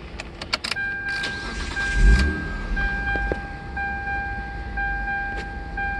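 A 2000 Mitsubishi Eclipse GT starts with a brief crank and catch, then settles into an uneven idle, with a steady high whine and some clicks and rattles up close, no speech.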